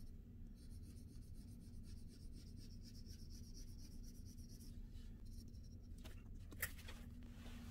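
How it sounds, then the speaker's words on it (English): Dark pencil drawing on paper for geometric abstract linework, a steady close scratchy rubbing that continues throughout over a low background hum, with a brief sharper tap near the end. "So we're going to use a nice dark pencil."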